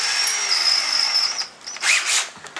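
A power drill fitted with a hole saw cuts into a door for a knob, whining steadily at close range, then briefly dipping and surging as the bit bites before winding down.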